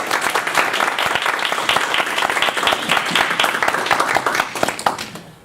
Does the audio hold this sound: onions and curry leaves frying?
no